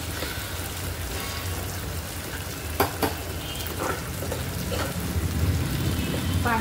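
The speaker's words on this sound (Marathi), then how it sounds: "एकदाच फक्त तेलाचा यूज करत आहे जेव्हा फोडणी देते" Tempering for black country chicken sizzles in hot oil with a continuous close crackle, a few sharper pops in the middle, and the frying swelling slightly toward the end.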